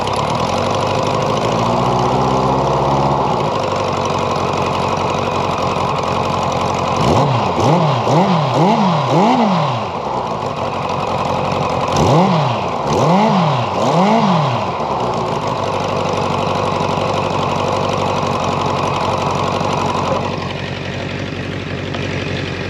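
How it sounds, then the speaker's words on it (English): A 1983 Kawasaki GPZ1100 motorcycle engine runs steadily at fast idle, loud and close, with two short rising-and-falling rev blips in the middle, then settles back to a lower idle near the end. "It's running now on fast idle."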